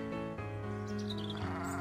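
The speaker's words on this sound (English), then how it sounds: "2003 oinks." A pig oinks in a video game whose only input besides moving is the oink, heard as a loud, continuous, tonal squealing call that shifts pitch, alone with no talk.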